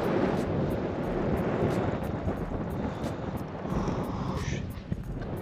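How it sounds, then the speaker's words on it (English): Strong wind buffets the microphone in a continuous roaring rush while squid fishing, with faint distant sounds beneath. "pretty windy"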